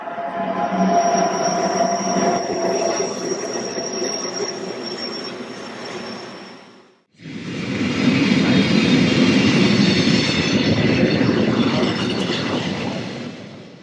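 A train rumbles loudly through a railway station at Filisur in the Swiss Alps, steady wheel and carriage noise with a squealing tone, briefly dropping to near silence before a second loud pass of rolling rail noise.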